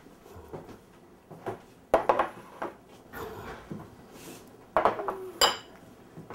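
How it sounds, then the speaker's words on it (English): Chow fun noodles being stir-fried in a pan, with metallic clanks and scrapes of a utensil against the pan in sporadic bursts, close up, over a low sizzle. "Now I start fry the chow fun."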